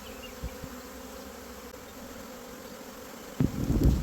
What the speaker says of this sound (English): you can see the bees on top are super busy